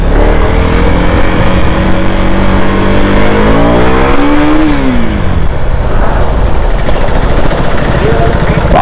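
A powerful motor vehicle accelerates hard, its loud engine note climbing steadily in pitch, then dropping and rising again, close up, with people talking over the roar.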